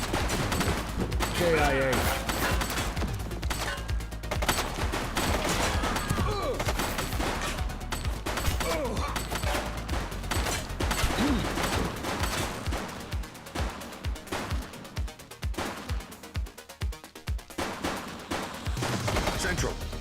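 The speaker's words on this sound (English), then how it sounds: "He's shooting!" Gunfire in the police video game The Precinct: shots crackle over a busy mix with voices talking, then give way to a sharp, evenly spaced run of loud, punchy bangs in the closing seconds.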